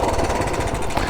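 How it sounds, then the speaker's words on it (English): A fully original 1965 Honda CT90 motorcycle engine idles steadily right after a kick start, a close, continuous rapid chugging with a rough mechanical knock throughout. "1965, fully original engine as far as I know, and it starts right up."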